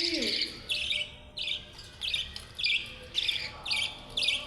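Small birds chirp in quick, regular bursts, bright and close, repeating roughly every half second over a quiet indoor background.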